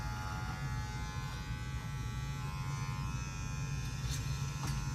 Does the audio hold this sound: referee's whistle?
no